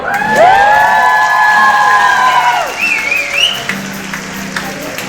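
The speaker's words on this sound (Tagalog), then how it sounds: "Okay, palakpak muna tayo." A lively concert crowd cheers and shouts together, with a long drawn-out whoop and a whistle, before the noise settles to a murmur.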